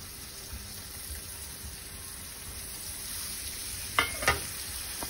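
A peppered fillet of king kampachi fish sears skin side down in a hot pan, giving a steady close sizzle with a couple of brief louder crackles near the end and no talking.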